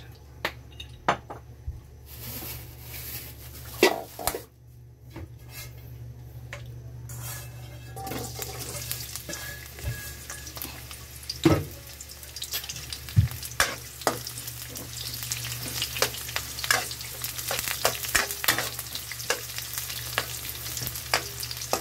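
A kilo of bitter gourd (ampalaya) sautés in a hot pan, giving a continuous sizzle broken by frequent clanks and scrapes of stirring against the pan, with no talk.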